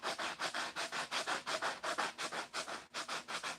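Bondo filler on custom car mirrors is sanded by hand, a quick, steady rhythm of close, raspy back-and-forth strokes with a brief pause near the end.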